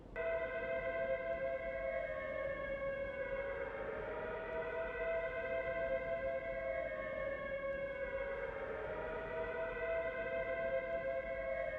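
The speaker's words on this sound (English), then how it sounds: "Have the chaps ready to move as soon as we hear those air raid sirens." Air raid sirens in the PC video game Prisoner of War wail continuously, rising and falling in slow overlapping sweeps at moderate distance, with no voices.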